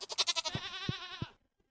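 A goat in Stardew Valley gives one wavering, quavering bleat that starts strong and fades out abruptly, close and clear with no talking over it.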